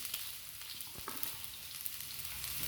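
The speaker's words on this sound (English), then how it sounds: "I'm gonna cook all my onions in there" Garlic and onions cooking in a pan for shrimp sambal, giving a faint, steady sizzle with a couple of soft stirring scrapes.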